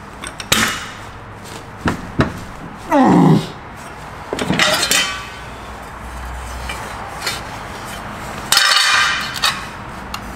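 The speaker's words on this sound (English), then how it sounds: "hammer it out a bit" Sharp metallic hammer blows on sheet metal of a Mk4 Ford Escort van ring out irregularly, a few isolated strikes with pauses between, alongside scraping and handling noises close by.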